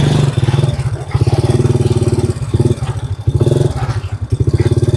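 Motorcycle engine revving hard in repeated throttle bursts during wheelie practice, loud and close with a pulsing rough exhaust note that rises and dips, and a voice occasionally talking over it.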